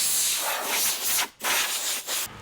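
Hand sanding a car body panel with 80 grit sandpaper during body damage repair gives a loud, close, gritty rasp in long back-and-forth strokes with brief pauses between passes.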